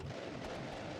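A monster truck crashes in BeamNG.drive with a short, loud, rumbling burst of impact noise and scraping, dense and noisy throughout its brief length.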